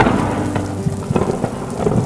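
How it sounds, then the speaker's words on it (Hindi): Heavy rain drums steadily while thunder rumbles and cracks low underneath, with a soft musical drone; no talking. "बिजली की आवाज इतनी तेज कि कान सुन्न हो गए।"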